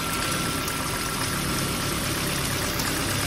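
The engine of a 2012 Volvo V50 idles after a valve cover gasket replacement, giving a steady, even, close drone with no breaks.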